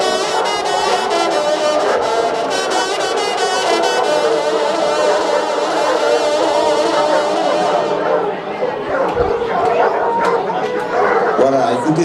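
A pack of hunting hounds from a boar-hunting pack at a hunting festival in Moulins, baying and yelping together, loud and continuous, with excited voices mixed in.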